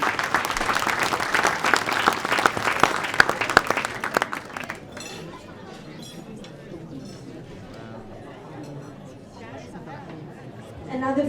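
Applause from guests at a church's annual banquet for St. George, crisp clapping for the first few seconds, then fading into room chatter and murmuring voices.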